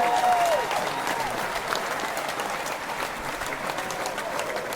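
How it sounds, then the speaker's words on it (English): A studio audience applauding a guest, sustained clapping at moderate level with crowd noise, a brief whistle-like tone near the start. "She's very loud in her applause."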